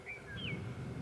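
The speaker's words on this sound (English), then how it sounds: "You hear the birds chirping." Songbirds chirp on a spring mountainside in Arizona's Bradshaw Mountains, a few short bright calls over a low rumble of wind and an idling vehicle.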